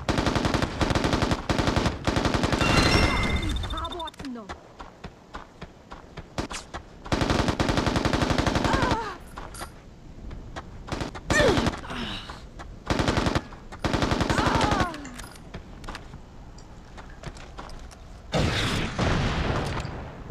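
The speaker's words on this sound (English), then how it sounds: "it's a light machine gun" A light machine gun fires in the video game Mercenaries: Playground of Destruction, with loud rapid bursts of automatic fire separated by short pauses, some booms and distant shots in between.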